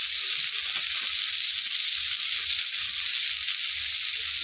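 Cumin seeds fry in hot oil for a jackfruit curry, making a constant, close, even sizzle with faint crackles underneath and no voices.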